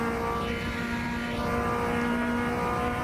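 A Mazda MX-5 Cup race car at Virginia Raceway in a racing video game gives a steady, loud engine drone with a strong sustained tone and buzzing harmonics, heard alone without talk.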